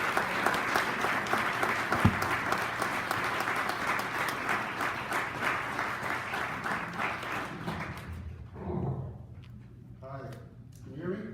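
Sustained audience applause at a Hall of Fame ceremony, dense clapping for several seconds before fading out as a voice begins speaking.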